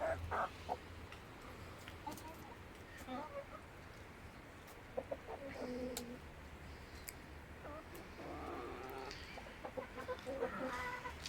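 Several chickens cluck and murmur close by as they peck at feed, with scattered louder clucks over a steady rustling background.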